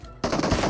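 Rapid close gunfire from a video game match, a quick burst of sharp shots packed into under a second after a brief lead-in.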